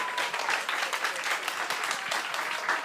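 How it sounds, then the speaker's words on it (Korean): A church congregation at a Sunday evening worship service claps together, a busy, fairly close burst of hand claps with uneven rhythm lasting a few seconds. "어우, 박수."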